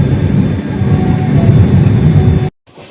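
The 12273 Duronto Express runs at night, heard from inside a 3AC economy coach: a loud, steady rumble and clatter of wheels and carriage that cuts off abruptly near the end, leaving a faint, quieter remainder.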